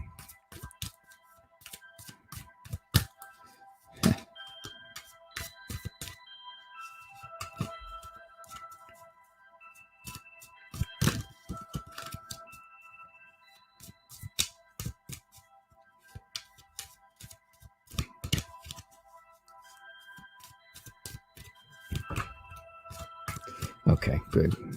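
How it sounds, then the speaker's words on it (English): A deck of tarot-style cards being shuffled by hand during a live stream, with repeated sharp riffling bursts and soft slaps scattered across the stretch, close and fairly quiet. "Okay, good and shuffled"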